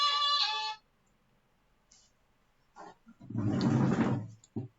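A phone ringtone plays loudly and alone for under a second, followed by quiet handling sounds and a burst of rustling or movement noise.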